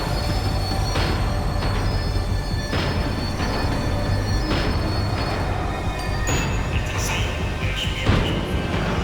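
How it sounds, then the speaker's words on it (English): A tram in Max Payne 3 rumbles steadily on its rails while slowing, with a loud continuous low drone and metallic squeals and clanks recurring throughout, close and dense. "The tram was slowing down, and I'd only just gotten on board."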